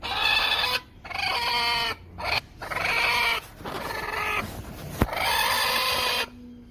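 A hen brooding on a clutch of eggs and being caught by hand gives loud, close, harsh clucking and squawking in repeated bursts with short gaps.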